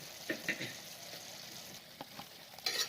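Onions added to a pan where chicken is cooking sizzle and fry steadily, with a few sharp crackles and bursts of stirring, close and moderately loud, with no voices.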